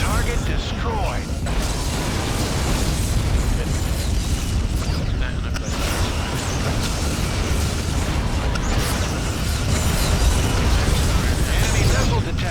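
A Klingon ship blows apart in Star Trek Legacy space combat, producing a loud sustained rumble of explosions with crackling bursts and mechanical clatter that continues heavily throughout.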